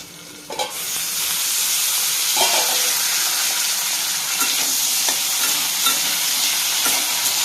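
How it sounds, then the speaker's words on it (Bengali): Potatoes fry in a pan with a steady, loud hiss of hot oil that starts after a brief bump and continues evenly. A few soft stirring knocks sit within the hiss, and no one speaks. "দেখুন আলুটা লাল লাল করে ভাজা হয়ে গেছে।"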